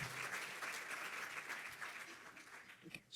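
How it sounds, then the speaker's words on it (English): An audience at a medical conference session applauds to welcome the first speaker, a steady wash of clapping from many hands that tapers off near the end. "And please just welcome our first speaker, who is Lauren."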